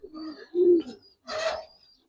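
Giribaz pigeons coo just after being released, with two low throaty coos followed by a rougher, breathier call, all close and clear.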